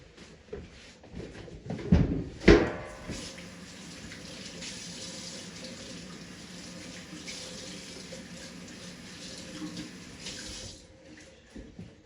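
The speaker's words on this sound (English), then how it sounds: "I'm gonna wash my hands right quick" Water runs steadily from a kitchen tap while hands are washed beneath it during salsa preparation, a continuous close splashing hiss with a couple of louder knocks near the start.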